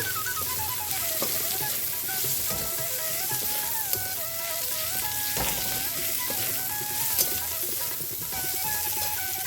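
Sliced onion sizzles in hot oil in a pan for sambar dal, a steady close crackle with occasional stirring scrapes, while background music plays throughout.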